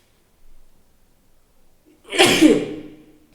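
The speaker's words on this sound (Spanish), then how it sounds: "estornudo para editar" A single sharp human sneeze bursts out after a faint intake of breath, close and loud against an otherwise quiet background.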